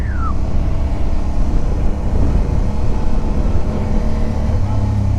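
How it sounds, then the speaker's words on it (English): Suzuki V-Strom 1000 motorcycle riding on a road in Ecuador, a loud steady low engine drone mixed with wind buffeting, continuous throughout with a brief faint tone near the start. "I'm really enjoying this motorcycle"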